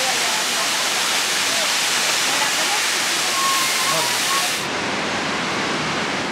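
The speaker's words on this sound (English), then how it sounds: "I can hear some waterfalls" Steady roaring rush of Iguazu Falls, dense and continuous, with faint voices mixed in beneath the wash of water.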